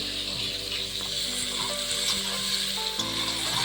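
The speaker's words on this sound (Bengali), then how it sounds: "কাজু পোস্ত দিয়ে সুন্দর করে ভেজে নিচ্ছি" Poppy seed and cashew paste fries in a pan with a dense, even sizzle that holds steady throughout, close and fairly loud, with occasional faint scraping.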